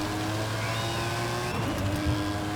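A fast race car in the Forza Horizon 5 video game holds a steady, droning engine note with a slight climb in pitch, fairly loud and continuous.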